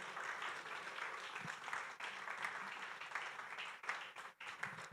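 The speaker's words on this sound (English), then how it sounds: "Please give him a round of applause as he makes his way to the stage." An audience at a sustainable finance summit keeps up sustained applause while a guest walks to the stage, a steady, fairly distant wash of clapping that stays faint throughout.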